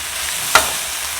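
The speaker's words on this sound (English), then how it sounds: "Make sure there's enough oil at the bottom of the pan to fry the okra, and we're not going to stir it too much." Okra fries in oil in a pan with a continuous soft hiss of sizzling, broken by one sharp clack from a utensil midway, up close with no voices.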